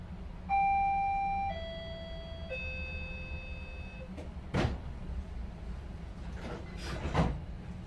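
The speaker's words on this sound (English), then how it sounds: "Please stand clear, the doors are now closing." A GO Train on the Kitchener to Toronto line sounds a descending three-tone warning chime, each tone ringing clearly, followed by the doors closing with a few distinct thuds and a rattling slide.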